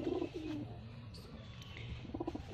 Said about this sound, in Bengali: এটা হচ্ছে মেয়ে পায়রা।